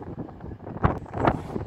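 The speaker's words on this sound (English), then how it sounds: "It's very windy today." Strong gusts buffet the microphone in low, rumbling bursts at Sheffield railway station, swelling and fading unevenly with a couple of heavier blasts.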